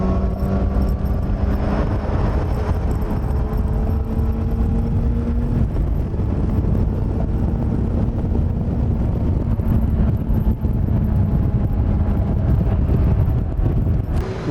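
A new motorbike rides at speed, its engine a loud, continuous drone whose pitch climbs and then resets as it shifts up through the gears. Heavy wind roar sits beneath it the whole way.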